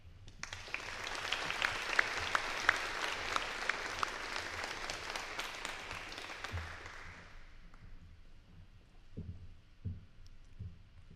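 An audience at a nursing pinning ceremony claps for a graduate, dense applause filling the room for about seven seconds before tapering off into scattered claps and faint murmurs.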